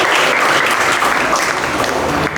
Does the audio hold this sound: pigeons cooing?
no